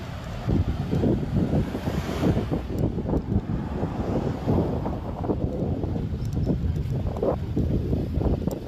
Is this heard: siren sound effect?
no